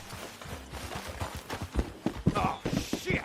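In Red Dead Redemption 2, horses walk with an irregular run of clip-clop hoofbeats on the ground, growing louder and denser toward the end, with faint voices underneath.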